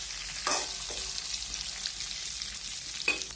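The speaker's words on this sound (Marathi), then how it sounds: "हे बघा परतायची आहे सारखी सारखी त्याला" Capsicum stir-frying in a pan, a soft continuous sizzle with two sharper spatula scrapes and stirs standing out, close and fairly quiet, with no voices.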